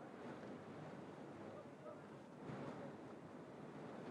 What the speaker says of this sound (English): Wind just keeps whipping and whipping and whipping.